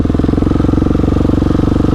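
A Husqvarna 701 motorcycle rides over a rough dirt track, its engine thumping in a steady, fast, loud rhythm of pulses throughout.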